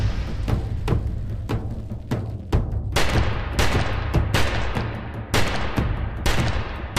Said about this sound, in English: That nail gun is powered by basically a .22 caliber shell that has the same sound as a gunshot